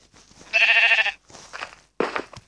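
A sheep in Minecraft bleats in several wavering calls, one long loud bleat followed by two shorter ones with brief gaps between, heard alone.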